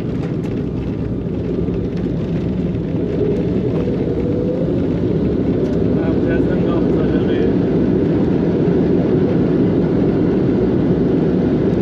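An airplane landing at Baku airport, heard from inside as a loud, steady engine and cabin roar that holds unbroken throughout, with muffled voices faintly beneath it.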